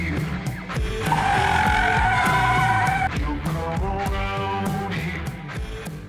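A front-wheel-drive car slides under the handbrake at about 50 km/h, tires squealing in a long, loud skid as the engine hums beneath, then the engine picks up again as the slide ends.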